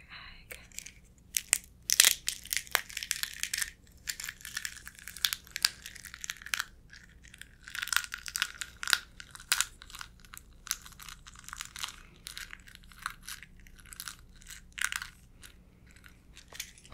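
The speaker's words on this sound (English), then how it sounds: "I cracked an egg on your head." Close ASMR crunching and crackling of a cracked egg shell against a head, in short irregular bursts of crisp, dry cracks over a low steady hum, with no talk.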